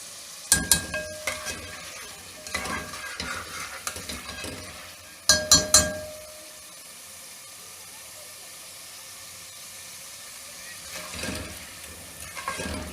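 Pigeon meat cooking with yogurt sizzles in a pan as a spoon scrapes and stirs in loud bursts, then settles into a softer, steady hiss before more stirring at the end.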